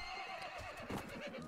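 Horses neigh and whinny in a Mount and Blade: Warband battle, several cries overlapping at close range with hoof clatter beneath, continuous for a moment with no talk.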